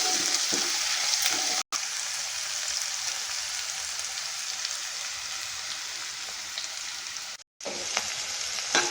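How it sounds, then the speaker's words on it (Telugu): Hyacinth beans fry in a pan with turmeric: a dense, steady close-up sizzle that runs throughout, interrupted by two brief moments of silence. "ఒకసారి కలిపేసుకుని మొత్తం ఒక 5 నిమిషాల పాటు వేగనిద్దాం"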